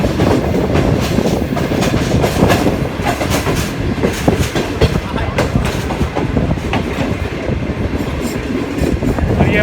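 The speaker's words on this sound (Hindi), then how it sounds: "और 5 of green line Lala Musa junction में दाखिल हो रही है।" Green Line passenger train entering Lala Musa junction, heard from on board with loud, continuous rumbling and rapid clickety-clack of wheels over rail joints, a dense close rhythm throughout.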